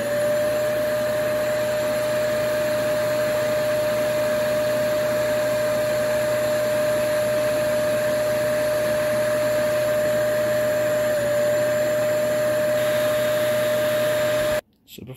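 Kenmore Elite 21814411 canister vacuum running steadily with its power nozzle attached, a loud continuous motor whine with a high steady tone and broadband airflow rush, cutting off abruptly near the end.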